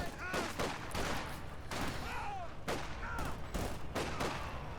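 Bursts of gunfire rattle in a competitive strategy video game match with a veteran machine gun firing. Rapid, repeated volleys sound with whistling effects mixed in, under faint commentary.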